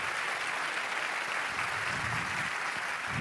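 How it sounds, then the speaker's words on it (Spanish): Sustained applause from a church congregation during a sermon, a dense, steady wash of clapping hands filling the room without a break. "Fuerte el aplauso al Señor Jesús."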